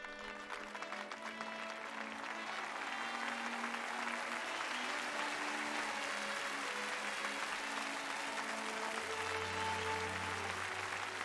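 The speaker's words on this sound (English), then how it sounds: "Golf clap? Golf clap." Video game applause plays at the Octopath Traveler finale, a steady dense crowd clapping sustained throughout over soft music tones, with no speech.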